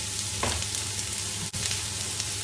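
Onions tipped into hot oil with popping cumin and fennel seeds for mamak-style fried cabbage, producing a loud, continuous close-up sizzle with a few stirring scrapes and no talk.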